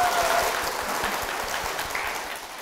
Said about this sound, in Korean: 사모님 박미경 사모님 박수로 모시겠습니다.